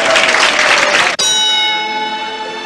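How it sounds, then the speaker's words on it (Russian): Loud crowd applause from a boxing-arena scene in a film lasts about a second, then cuts abruptly to a ringing bell tone that slowly fades. "Аплодисменты великому Джейку Ламотта,"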